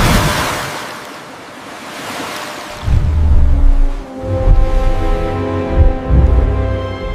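Ocean waves surge and break, a soft hiss building into heavier rolling crashes that swell and recede in a continuous wash, loud and close.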